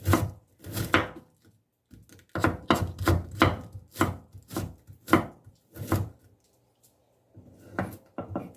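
Boiled cabbage is chopped finely with a knife on a cutting board, producing a rapid series of crisp, close thuds in two bursts separated by a short pause.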